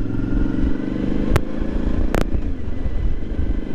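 A Suzuki V-Strom motorcycle cruises along a road, a steady engine drone and wind rumble heard from the rider's position, with a couple of sharp clicks partway through.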